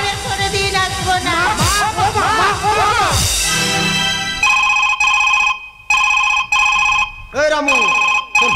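A telephone rings indoors with a repeated electronic ringtone, sounding in steady bursts after a stretch of loud, lively talk and music.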